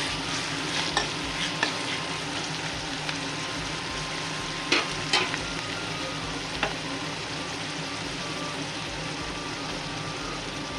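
Mutton head meat sautés with curry leaves in a pan, a steady low sizzle and fry with occasional scraping stirs and clinks of a utensil against the pan.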